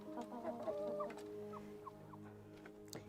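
Chickens cluck in a coop, a steady run of soft, close clucks and short calls against a low background murmur, with no talking.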